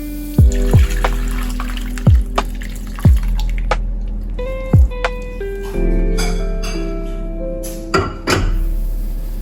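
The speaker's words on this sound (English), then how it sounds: "Then strain the dashi through a metal sieve into a measuring cup." Dashi is strained through a metal sieve into a measuring cup: scattered drips and splashes of liquid, with a few louder plops and a trickling pour, close by.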